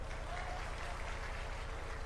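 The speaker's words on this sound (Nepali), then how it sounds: "एकचोटि ताली बजाएर उहाँहरूलाई स्वागत गरौँ" A large crowd claps at a political party rally in Pokhara, the applause steady and dense throughout, with a constant wash of crowd noise.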